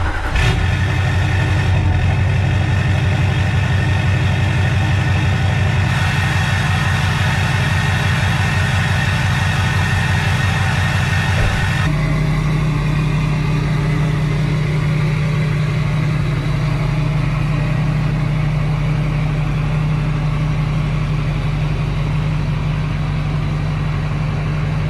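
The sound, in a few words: truck engine running while driving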